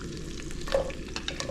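Green peppers and other vegetables fry in butter and oil in a pan, making a close, steady crackling sizzle with soft stirring scrapes over a short stretch.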